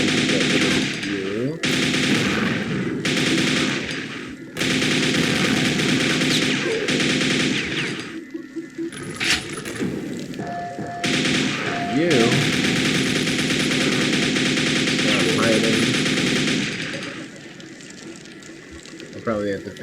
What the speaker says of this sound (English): I'm gonna use the nail gun to get rid of you.